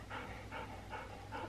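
A small puppy pants in quick, rhythmic breaths, close and fairly soft, with about four even pulses and no voices.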